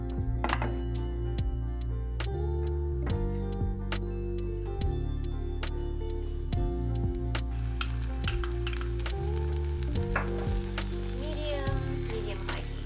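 Sesame oil sizzles in a pot over medium-high heat, a soft continuous frying hiss running underneath louder background music with a steady stepping melody.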